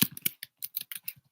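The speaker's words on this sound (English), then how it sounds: "I hate the noise that the keyboard makes" Quick bursts of computer keyboard typing, close and crisp, with uneven clusters of key clicks separated by short gaps.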